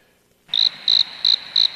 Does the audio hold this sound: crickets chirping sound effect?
yes